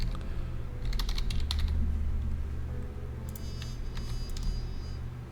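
Typing on a computer keyboard comes in two quick bursts of close, crisp key clicks with a pause between them, over a low steady hum.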